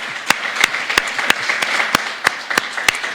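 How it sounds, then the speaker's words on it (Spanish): A church congregation clapping together in a steady rhythm, sharp claps roughly three times a second at a loud, close level, with faint voices under them. "Da un aplauso al Señor, qué bueno."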